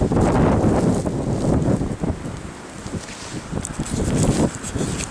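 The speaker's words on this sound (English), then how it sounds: "I mean, it is really blowing out here. We're talking mundo blowing" Strong blizzard wind roars and buffets a microphone outdoors in deep snow in Oklahoma, surging and easing in loud gusts with no speech.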